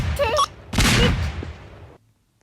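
Bomb blasts going off in a minefield in the Roblox-style game Ragdoll Engine: two loud, close bursts, the second a broad booming crash that fades over about a second before the clip drops to near silence.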